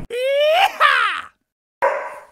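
A small pet dog gives drawn-out whining, yelping barks, two long rising cries and a shorter one after a pause, loud and close with no talking.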